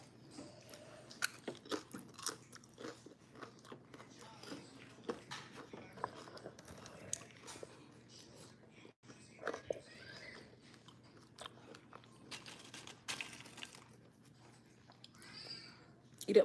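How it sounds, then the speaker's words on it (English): Food is chewed with repeated faint crunching bites at a family dinner table, under quiet background chatter. "Love the sound of the crunch."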